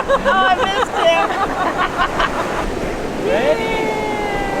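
Ocean surf rolling onto a sandy resort beach in Cancun, Mexico, a constant wash of waves with wind buffeting the microphone, while people chatter and an excited voice squeals over the surf.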